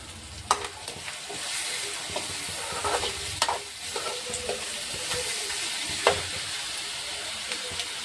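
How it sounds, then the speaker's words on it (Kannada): Tomatoes with salt fry in a pan with onion, a soft steady sizzle broken by several sharp spatula knocks and scrapes at uneven intervals. "ಈ ಟೊಮಾಟೋನು ಮೆತ್ತಗಾಗೋ ತನಕ ನಾವು ಇದು ಹೀಗೆ ಫ್ರೈ ಮಾಡ್ಕೋಬೇಕು"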